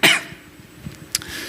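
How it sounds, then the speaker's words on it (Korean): A man with a lingering cold gives a single sharp cough, close and fairly loud, followed by quieter throat noises and a second brief cough-like burst. "제가 자꾸 이렇게 기침이 안 떨어지니까"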